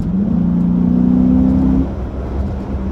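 A Chrysler 300S fitted with a Pedal Commander throttle controller accelerates in sport mode, its engine drone climbing steadily in pitch for nearly two seconds before easing off into a lower cruising hum, close and loud with no talking.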